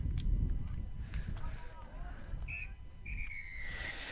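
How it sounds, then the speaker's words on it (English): A referee's whistle ending the first half of a club rugby match, giving two short shrill blasts and then a longer one above crowd noise and nearby commentary. "the whistle goes to end an exciting and close first half of play"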